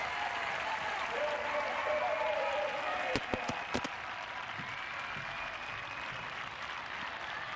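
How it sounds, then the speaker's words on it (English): Rugby crowd at a women's Rugby Europe Championship match between Spain and Russia giving a sustained standing ovation, dense applause from a large stadium audience with a few sharp claps standing out and a commentator talking over it. "a standing ovation."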